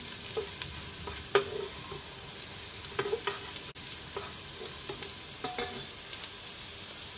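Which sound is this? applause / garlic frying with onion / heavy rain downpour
garlic frying with onion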